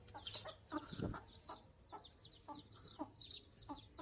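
Hens peck and cluck around newly hatched chicks, their short soft clucks repeating in an irregular rhythm at close range, with some scuffling between birds and no speech.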